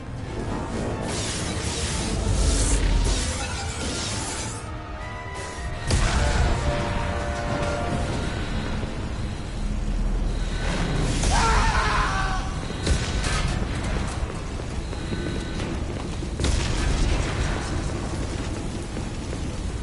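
Combat aboard a spaceship in the video game Mass Effect 2: a dense, loud, continuous barrage of explosions, bursts and impacts as the ship takes hits, with booming swells and whooshes throughout and no talk.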